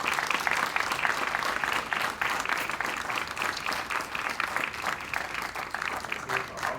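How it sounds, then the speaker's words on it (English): Steady applause from a crowd at a community mural unveiling honoring the artists, sustained and fairly even throughout, heard from within the audience with no talk over it. "let's again give the artists a huge round of applause for this beautiful depiction"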